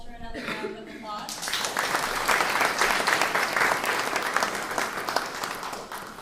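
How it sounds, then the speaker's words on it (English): Audience applause for Walter at a talk on PTSD among Ugandan child fighters, a broad sustained wash of clapping lasting several seconds, with brief speech at the very start. "Go ahead and give Walter another round of applause."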